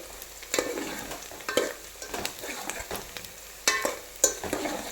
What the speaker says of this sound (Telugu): ఇప్పుడు మనం ఈ ఆనియన్ మంచిగా గోల్డెన్ బ్రౌన్ కలర్ వచ్చేంత వరకు వేగాలండి